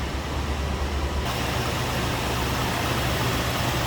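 A 1966 Ford Thunderbird Landau's 390 V8 engine idling, a steady low rumble that holds constant and close throughout.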